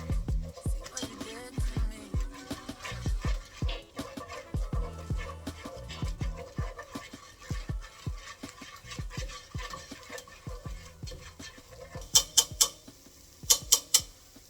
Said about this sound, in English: Get your whisk. Whisk it in.